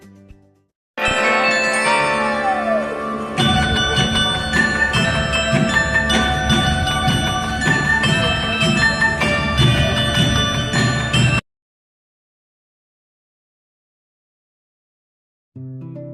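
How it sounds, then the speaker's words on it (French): A carillon at the Puy du Fou park rings out an old tune, bright overlapping bell tones sustained loudly for about ten seconds before cutting to silence. "redécouvrir des anciennes musiques et chants reprises à la sauce carillon du Puy du Fou"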